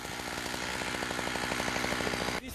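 Chainsaw cutting a felling notch in a tree during winter logging in Russia, a loud steady engine whine with pulsing rhythm close by, cutting off abruptly near the end.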